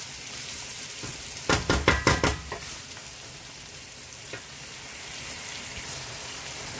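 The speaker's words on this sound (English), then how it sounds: "You can see the egg is frying with the sauce with my vegetable." An egg frying in sauce with vegetables in a pan, giving a steady soft sizzle with a burst of sharper crackling stir sounds near the start, alone without talk.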